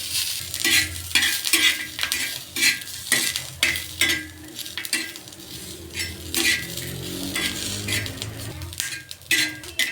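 Repeated metallic scraping and clinking of a spatula stirring grated coconut roasting in oil on a pan, with a light sizzle underneath, close by and irregular.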